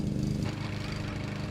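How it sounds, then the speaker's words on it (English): A lawn mower drones steadily outdoors on a warm spring evening, a continuous engine hum that is moderately loud, close and unbroken throughout. "mowing the lawn"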